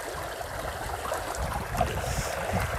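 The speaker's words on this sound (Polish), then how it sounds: "Na polu lawowym płynie woda, która jest w kranie w domostwach." Water runs across a lava field on Tenerife, a steady, fairly loud rushing and trickling wash with no voices, continuous from start to finish.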